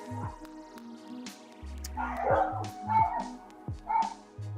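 Dogs bark repeatedly in short bursts over a busy background of music-like tones and clatter, fairly close and moderately loud.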